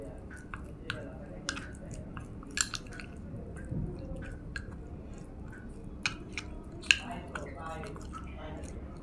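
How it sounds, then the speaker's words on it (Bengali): A honey-based skin paste stirred in a bowl, giving faint, wet, sticky squelches and light scraping clicks at an irregular pace, with soft talk underneath. "এবার এটাকে ভালো করে মিশিয়ে নেব।"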